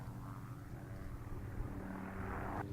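Two helicopters working in tandem during a wild horse roundup in the Divide Basin, a faint, distant steady rotor drone heard alone across open country.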